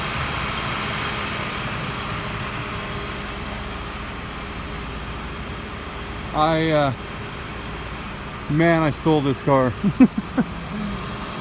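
A 2005 car with 98,000 original miles and a newly replaced torque converter idles as a steady low engine drone throughout, with someone talking briefly over it near the end.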